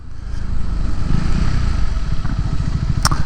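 A motorcycle on knobby tires rides along steadily, its engine a loud, continuous low rumble with a rhythmic chug that picks up toward the end, accompanied by a brief higher rattle near the finish.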